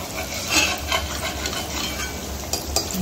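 Gulab jamun fry in hot oil while the oil is spooned over them, giving a dense, close sizzle punctuated by light scrapes and clinks of the spoon against the pan.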